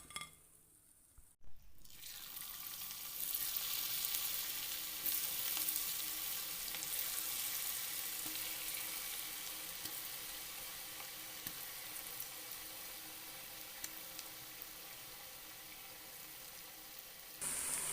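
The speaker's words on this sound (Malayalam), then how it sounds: "അങ്ങനെ എല്ലാ പക്കവടയും നമ്മൾ വറുത്തെടുത്തു" Battered cabbage pakoda fries in hot oil, a dense steady sizzle and bubbling that runs on close by, loud and unbroken after a brief clatter at the start, with no voices.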